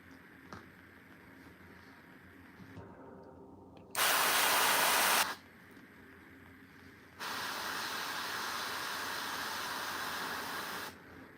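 An airbrush sprays paint onto a Warhammer miniature in two steady hissing bursts, one short burst and then a longer one, both close and alone with no talk.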